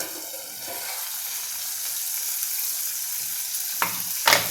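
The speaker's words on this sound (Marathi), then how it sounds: "ही मी एकदा भाजी परतते" Vegetables sizzle steadily in a hot pan on a gas stove with a broad frying hiss, followed by two brief clanks of a utensil at the end.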